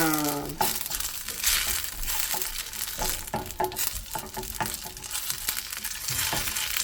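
Ghee sizzles and crackles steadily in a pan while payasam ingredients fry, a busy frying hiss with clinks of stirring throughout, no voices.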